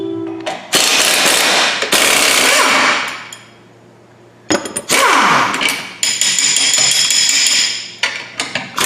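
A power tool with a Torx bit runs on an upper control arm bolt of a Jeep WJ during a long-arm install, in loud ratcheting bursts with a brief pause between two long runs.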